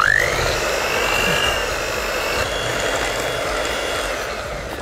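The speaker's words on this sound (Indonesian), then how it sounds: "Ini kita tambahkan 250 gram gula pasir. Kita kocok sebentar." An electric mixer beats butter and 250 grams of sugar for a coffee cake, with a steady, close whirring motor hum and a slight pitch shift as it starts.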